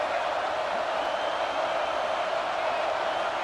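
Steady roar of a stadium crowd at a college football game in Michigan Stadium, a continuous dense wash of cheering and noise with no breaks, loud and even throughout.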